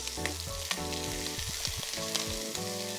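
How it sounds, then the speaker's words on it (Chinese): Fatty pork belly frying in a dry pan with no added oil, rendering its fat; a steady, close sizzle with spitting crackles runs throughout, accompanied by scattered tonal kitchen sounds. "我哋有好多肥肥嘅豬腩肉，擺落去煎到佢出油"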